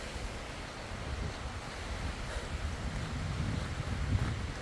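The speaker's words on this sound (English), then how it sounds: "so it's really windy." Strong wind gusts on a stormy hike near Jenny Lake in Grand Teton National Park, buffeting the microphone with a rough, continuous roar that swells toward the end.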